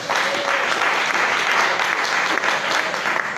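A church congregation claps together to acclaim Jesus: loud, steady, dense applause that fills the space without a break, with no speech over it.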